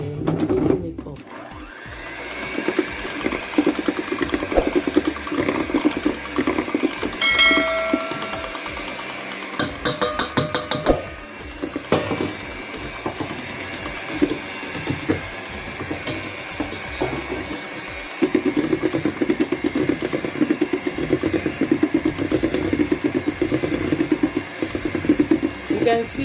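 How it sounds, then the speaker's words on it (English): An electric mixer beats cake batter on low speed, a steady mechanical whir that runs close and continuous for the whole stretch with some clatter against the bowl. "You can see that I am beating it on low speed, no more high speed."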